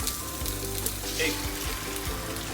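Egg frying in a wok while cooking Sabah Tuaran mee, a steady close crackling sizzle with faint scraping underneath.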